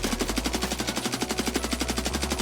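A Steyr AUG rifle fires full-auto in Escape from Tarkov, with a loud, steady rapid string of shots lasting the whole stretch and no pauses.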